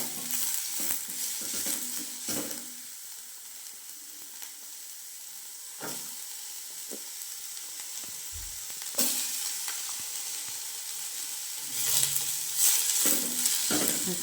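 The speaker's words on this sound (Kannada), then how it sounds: "ಈರುಳ್ಳಿನ ಆ್ಯಡ್ ಮಾಡಿ ಸ್ವಲ್ಪ ಫ್ರೈ ಮಾಡ್ಕೊಳ್ಳೋಣ." Onions sizzle in a pan while a utensil stirs and scrapes them at intervals, a soft continuous frying hiss broken by louder clatters, no voices.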